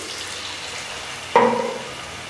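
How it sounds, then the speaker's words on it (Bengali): A splash of water hits a hot pan of potato and papaya dalna, setting off a sudden loud sizzle that slowly fades, after a quieter stretch of low background frying. "সামান্য একটু জল দিয়ে দিচ্ছি"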